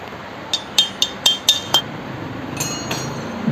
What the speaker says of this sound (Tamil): அதுக்கு இந்த ஆயில் செல்லை வெளியே எடுத்துகிட்டு ஸ்பாக்கெட் பேரிங்கை தட்டி எடுத்துடலாம்.